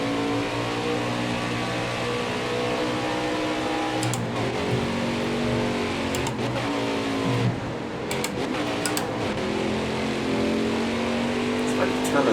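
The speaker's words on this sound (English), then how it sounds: "it's trying to overrev the engine" Stock car engine in the Nascar Heat 5 racing game held near its rev limit, a steady droning whine that strains and wavers continuously with brief gear-change dips, loud throughout.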